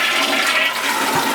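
A toilet flushes after being unclogged, a brief loud rush of swirling water heard up close, with no voices.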